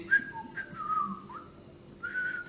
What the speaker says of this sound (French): Ma maman, quand j'étais petit, elle m'a appris à siffler.